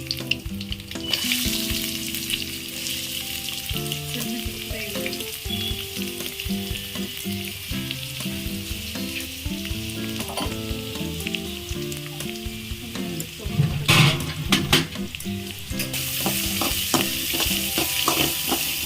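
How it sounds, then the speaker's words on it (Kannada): Chana dal and dry red chillies frying in hot oil with a loud, continuous sizzle and crackle that flares up in the middle and stays close throughout, with background music playing. "ಎಣ್ಣೆ ಕಾದ್ಮೇಲೆ ಕಡಲೆಬೇಳೆ ಹಾಕಬೇಕು"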